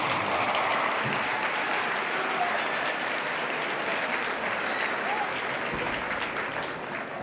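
Students clap continuously at a Black History Month school assembly, a dense, even wash of applause from a large crowd filling the hall at steady volume throughout.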